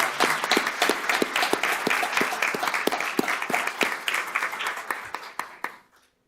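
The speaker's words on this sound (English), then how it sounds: "Let's give her another round of applause." An audience at a school district board meeting applauds with steady, dense clapping that tapers off near the end. The applause is fairly close and sounds like a medium-sized room.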